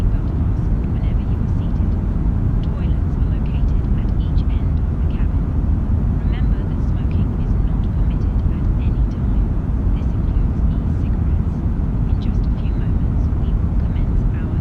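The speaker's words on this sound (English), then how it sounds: "Still hand flying the aircraft at this time." Airplane hand-flown in a flight simulator just after takeoff with flaps coming up, a steady loud engine and airflow drone that holds constant throughout, with faint talk mixed underneath.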